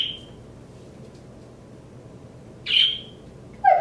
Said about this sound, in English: My birds are talking up a storm